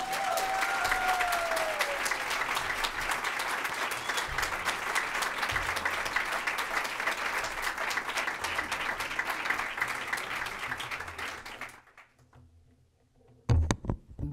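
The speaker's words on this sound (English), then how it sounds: "just give her a round of applause" Loud, sustained applause from a large audience fills most of the clip, then cuts off into near silence before a few scattered sounds at the end.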